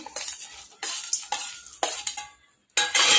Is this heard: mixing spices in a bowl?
yes